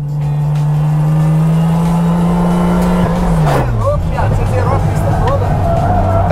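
A car driving hard around a track, drifting: a loud, close engine drone holds steady, then drops in pitch as the throttle eases, with tire squeal and chirps cutting through and voices talking underneath.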